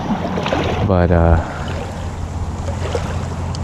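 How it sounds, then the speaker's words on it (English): Gusty wind buffets the microphone beside a cold, high-running creek near sundown, a steady broadband rush with a brief spoken word partway through. "It's actually pretty windy"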